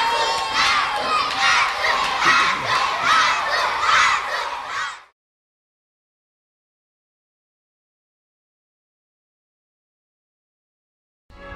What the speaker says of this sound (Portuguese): Aplausos para o Colorado.